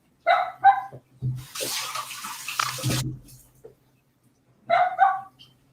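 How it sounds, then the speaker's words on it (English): Unhappy dog barking outdoors, a few sharp yaps in two short bursts, with a gush of running water from a tap in between. "an unhappy dog outside"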